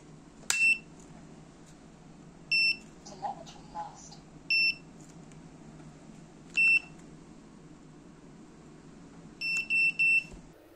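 Short electronic beeps from a buzzer on a model airplane repeat at irregular intervals, some single and some in quick clusters, over a steady low background hum with faint talk.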